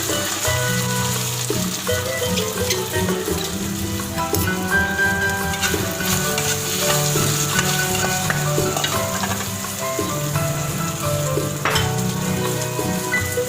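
Onion sizzling in a pan with already-frying garlic and ginger for a toasted fajita sandwich, a loud, constant crackle with stirring scrapes, near and unbroken.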